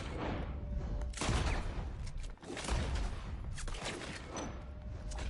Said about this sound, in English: I was trying to shoot that lantern, but whatever.